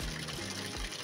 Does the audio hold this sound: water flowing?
yes